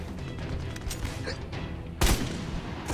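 Distant gunfire and a heavier blast in the co-op shooter Army of Two: The Devil's Cartel, mostly muffled under a busy game soundscape, with one louder burst near the end.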